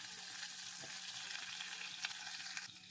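Garlic and onion frying in a pan for a colocasia leaf curry, a steady soft sizzle with occasional crackles and stirring, no voices.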